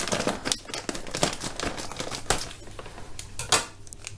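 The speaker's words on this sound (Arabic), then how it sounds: "بفضي الكيس كده كله جواها" Laundry detergent powder is poured from a crinkling plastic bag into a container, making close rustles, crackles and sandy hissing bursts in an irregular rhythm, with no talking.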